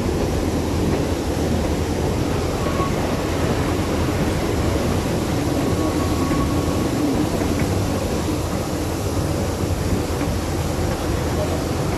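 A Mocănița narrow-gauge train rolling through the Apuseni Mountains gives a constant loud rumble and rushing noise from the ride, with no clear individual clacks standing out.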